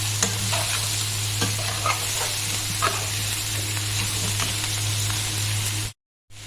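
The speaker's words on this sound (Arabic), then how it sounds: "بديها تقليبه بالشكل ده كده اهو." Peppers being stirred and turned in a hot frying pan, a steady close sizzle with scraping stir strokes and soft clicks throughout, ending abruptly.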